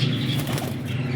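A Qasori breed pigeon flaps its wings close by, a rapid fluttering whir lasting about a second with no other sounds over it.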